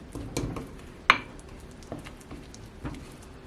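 A spoon mixes baking powder into broccoli waffle batter in a bowl, a few scattered soft taps and clinks with one sharper knock, close and quiet.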